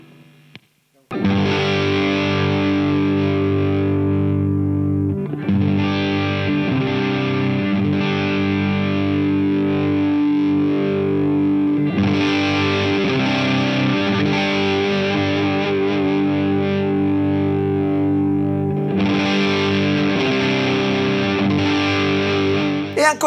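A Karma Machine Shop guitar pedal blends ODR and MTN distortion, giving a thick, sustained distorted electric guitar playing chords in long held phrases with brief pauses between them, loud and alone without talk.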